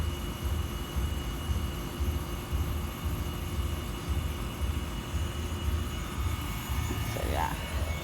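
A Trane XE1000 heat pump runs with a steady low, droning hum and rumble that holds through the whole stretch, with a brief rising whine near the end.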